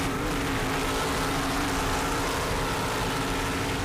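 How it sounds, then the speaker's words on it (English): The twin 750-horsepower Sterling inboard engines of a Super Cat class racing powerboat produce a dense, continuous roar. A steady low hum runs beneath it throughout, loud and unbroken. "Powered by two 750 horsepower Sterling inboards, and you can hear them right now."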